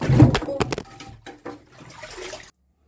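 A phone drops into muddy water while a tunnel is dug in a bunker: a loud splash, then sloshing and trickling that fade out after a couple of seconds.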